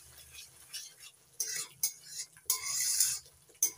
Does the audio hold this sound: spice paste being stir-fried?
yes